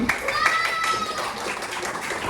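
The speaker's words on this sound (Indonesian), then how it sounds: "Perwakilan dari kelompok kalian silakan berikan tepuk tangan." A classroom group claps for a student group presentation, with quick patter mixed with children's voices talking over it.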